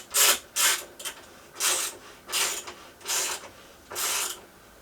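A bolt on an Adventurespec Magadan pannier rack on a Yamaha Tenere 700 is tightened with a ratchet, giving about seven short, close, bright ratcheting bursts with even pauses between them.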